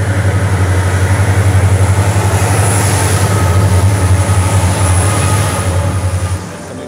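An Indian Railways train runs steadily past at close range, a loud continuous rumble of wheels and carriages with rhythmic clatter that eases slightly near the end, no voices.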